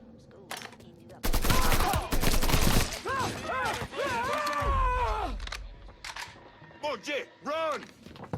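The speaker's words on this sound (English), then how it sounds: "So blind fire wouldn't work so well in real life, but in a video game, it's always nice to have." Gunfire in the Mafia III video game, a dense loud burst of rapid shots followed by scattered blasts, with whooshing and pitched effect sounds and some voices.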